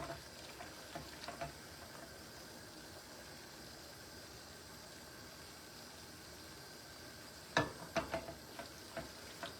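A dinner mixture cooks in a pan with a soft, steady sizzle. Near the end, a few sharp scraping clinks come from the stirring.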